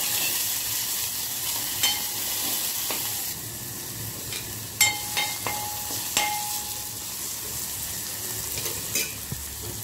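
Cumin, green chili and garlic paste sizzling in hot oil for a Maharashtrian chakwat dish, a steady bright hiss with occasional clinks of a spoon against the pan, close and without talking.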